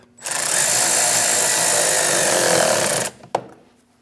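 A power tool whirs steadily for about three seconds while tightening a hose clamp on a 2003-2025 Chevrolet Express engine during a crankshaft vibration damper replacement, loud and close, then stops with a sharp click and a brief rattle.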